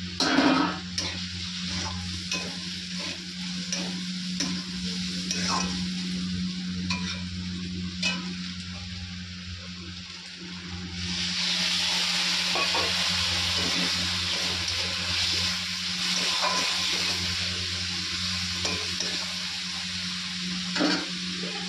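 Dried fish sizzles in a pan in a home kitchen while a utensil stirs it with scraping strokes, and the hiss grows louder and brighter midway through.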